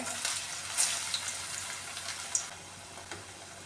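Parippu vada frying in coconut oil, a steady bright sizzle with small pops and crackles rising now and then, close and moderately quiet.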